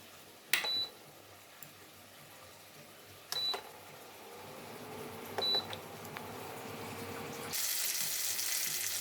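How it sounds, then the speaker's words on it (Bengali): Spices sauté in hot oil for a parshe fish curry, a faint sizzle that slowly swells, broken by a few short electronic beeps, before a louder rush of hiss takes over. "মশলাগুলো কষাতে থাকবো।"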